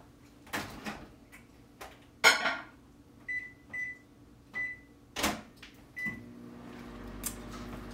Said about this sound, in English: Let me throw one sauce in the microwave for the meantime.